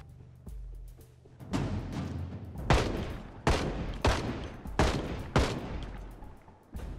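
Gunfire from the zombie survival game Project Zomboid: a run of sharp, loud shots roughly every second, each with a quick decaying tail, over low rumbling game ambience with no talk.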